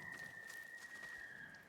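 A thin, steady whistle sounds in the video game Ghost of Yōtei, a single sustained tone held for under two seconds over quiet ambient game sound.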